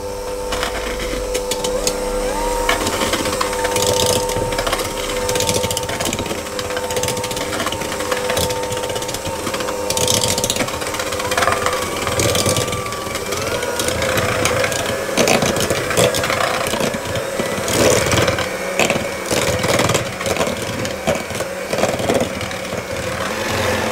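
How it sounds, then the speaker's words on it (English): An electric mixer creams soft butter and sugar for a chocolate sponge batter, a loud continuous whirring and rattling churn that runs steadily throughout, with no talking over it. "the first thing to do is to cream the butter and the sugar until it's nice and fluffy"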